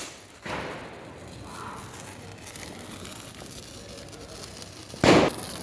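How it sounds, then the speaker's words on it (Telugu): A firework rocket is lit and launched during outdoor Diwali celebrations, with a sharp whooshing burst at the start and another loud bang near the end over a quiet crackling background. "అఖిలేష్ రాకెట్ అంటిస్తున్నాడు."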